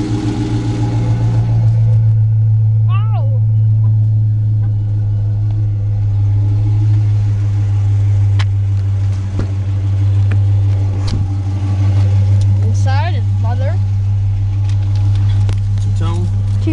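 Dodge Challenger Hemi with custom exhaust mufflers idles after a remote start, a loud, steady low rumble throughout, with brief faint chirps and clicks over the top.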